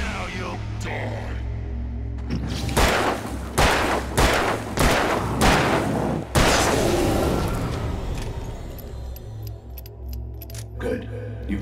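A run of loud gunshots from the Alan Wake video game, about five sharp cracks spaced roughly a second apart, set against a low rumbling ambience.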